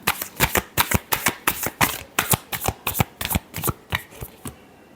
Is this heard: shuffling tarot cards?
yes